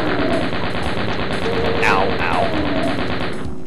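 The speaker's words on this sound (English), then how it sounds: "Oh, crap. Chain gun." Rapid, continuous chain gun fire in Doom 95 hammers loudly throughout, with a brief pained grunt partway through.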